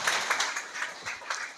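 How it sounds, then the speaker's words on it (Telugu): Hands clapping together in a church congregation during a Sunday worship service, a quick run of sharp, bright claps with soft bursts every few tenths of a second, fairly near and steady, with no talking over them. "చప్పట్లు కొట్టండి."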